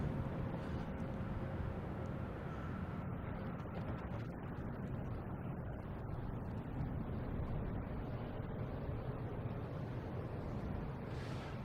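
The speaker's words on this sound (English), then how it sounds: "United Airlines coming in from Chicago. Flight 1693. 737-900." A United Airlines Boeing 737-900 arriving from Chicago at Boston Logan Airport makes a broad, distant rumbling roar that stays steady throughout, partly masked by wind noise.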